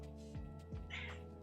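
A house cat meows twice in quick succession indoors, close and soft, followed by a brief higher, breathy rustle and a low background hum.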